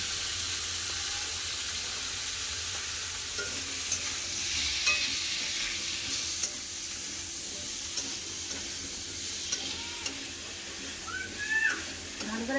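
Pumpkin and potato pieces seasoned with salt and turmeric sauté in a pan, giving a steady moderate sizzle with occasional stirring scrapes, close by.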